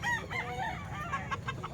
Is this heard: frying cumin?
no